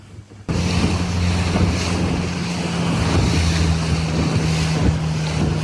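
A small boat motors through choppy sea off the Cornish coast near Plymouth and Polperro, with a loud, steady engine drone, splashing water and wind buffeting the microphone, starting abruptly and continuing throughout without speech.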